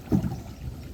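A small boat moves across floodwater, giving a brief low rumble and swash of water that swells near the start and then settles into a steady wash, with no voices.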